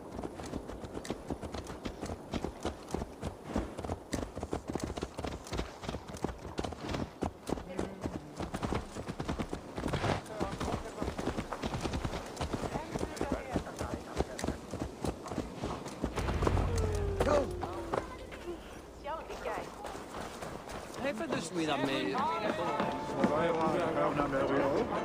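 Horse hooves clip-clop rapidly and rhythmically in Assassin's Creed Valhalla as a mount trots and runs, fairly close and continuous, with people talking over it and a brief whinny.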